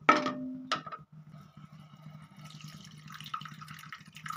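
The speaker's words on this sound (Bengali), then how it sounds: "যেখানে পনিরটা ভিজিয়ে রেখেছিলাম পনিরটা না দিয়ে তার জলটা আমরা একটু দিয়ে দেব" Soaking water from paneer is poured into a pan of yogurt-based curry. A brief splash and pour comes first, followed by a low bubbling simmer and faint liquid trickles.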